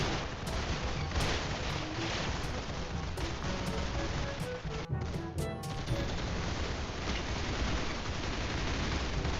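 Gunfire in the online shooter game Arsenal, with rapid repeated shots and bursts crackling over a dense, loud game soundscape throughout, no talk heard.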